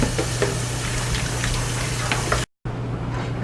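Running tap water gushes over strained pinto beans in a colander, a loud steady close rush that cuts off abruptly for a moment before resuming more softly.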